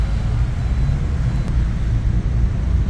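A car engine hums steadily from inside the vehicle during a driving lesson on a dual carriageway, a loud continuous low drone with road noise and no talk.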